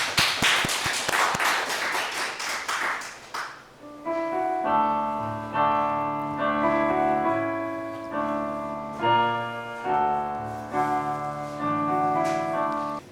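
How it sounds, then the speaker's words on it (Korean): Church congregation claps in unison in a run of rhythmic, evenly spaced claps lasting about three seconds, then gives way to sustained organ or keyboard chords. "우리 영광의 박수 드리겠습니다."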